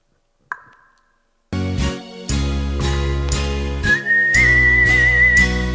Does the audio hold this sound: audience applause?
no